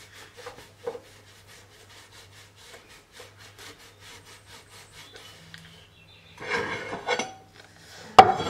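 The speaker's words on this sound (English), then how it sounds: "I can wipe the cooker here." A sponge rubs across a cooker with burned-on overflowed rice in steady back-and-forth strokes, quiet and close, ending in a few louder clattering knocks.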